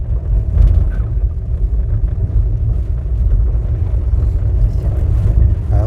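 A Suzuki Carry 4x4 kei truck drives over bumpy broken terrain, its engine a loud, steady low rumble with rattling jolts from the cab and a wash of wind, unbroken and with no voices.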